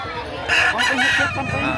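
Rooster crowing at a Saturday chicken market in Lipa City, Batangas, one loud, drawn-out crow up close over market bustle and background voices.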